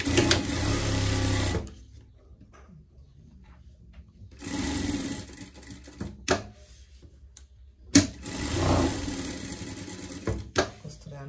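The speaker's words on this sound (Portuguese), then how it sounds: "vamos costurar aqui a nossa monta aqui por todo" A sewing machine stitches rectangular fabric pieces onto a panel while making girls' panties, running in several loud, steady bursts separated by quieter pauses with faint background voice.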